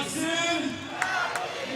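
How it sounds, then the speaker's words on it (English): A speedway crowd in Poznan at the Under-21 World Championship final chants a rider's name, a dense roar of many voices at a distance with someone talking over it. "Crowd are responding with his name"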